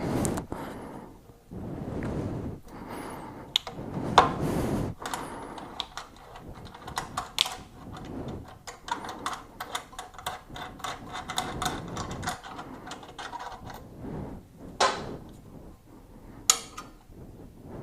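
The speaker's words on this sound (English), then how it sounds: "let's go ahead and take off the mounting bolt first, or at least get it loosened up" A hand-held Allen key works loose the mounting bolt on a 2016 Yamaha R1 exhaust during an Akrapovic slip-on install, giving off irregular close metallic ticks, scrapes and clicks with pauses between turns.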